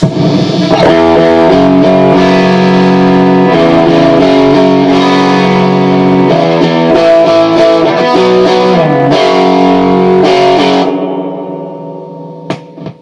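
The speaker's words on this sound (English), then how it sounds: "You can hear the reverb trailing off nicely, just the right amount." A distorted electric guitar plays a repeating phrase with heavy effects, then the last chord rings out and its reverb tail fades into near silence.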